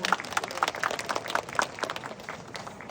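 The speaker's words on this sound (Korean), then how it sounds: "사람 중심 공동체 부안을 위해 헌신하시는 군수님께 여러분 다시 한번 큰 박수 부탁드립니다." An outdoor temple concert audience gives applause to the county governor of Buan, scattered clapping with distinct individual claps over a thin background, moderately distant and tapering off.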